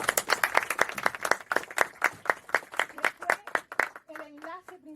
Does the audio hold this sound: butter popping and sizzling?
no